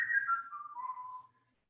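A person whistles a short descending tune during a workout, a single clear, fairly soft melodic phrase that glides downward and fades out after about a second and a half, with no talk over it.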